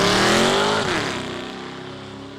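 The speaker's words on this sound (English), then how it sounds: "you don't expect a Tesla to sound like a stock car" Loud, close engine roar from a 2015 Tesla Model S race car at a Loup 2 Loup open road race in Halsey, Nebraska, with a falling pitch sweep as it passes and the sound fading off steadily.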